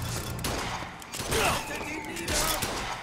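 Enemies fire guns in BioShock Infinite: a cluster of muffled shots and thuds with a mechanical rattle, moderately loud, while someone talks over the action.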